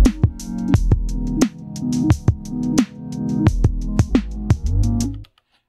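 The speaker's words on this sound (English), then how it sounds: "I resampled the other parts, and then I ended up pitching them down, and they sounded like this." Resampled synth parts pitched down, heard as dense low, droning tones and chords with sharp rhythmic hits recurring roughly every second, loud and continuous before cutting off abruptly near the end.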